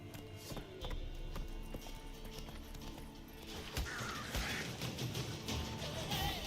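Horse hooves gallop steadily in The Witcher 3, a continuous clip-clop rhythm under a dense game soundscape with brief rider calls, loud and close throughout.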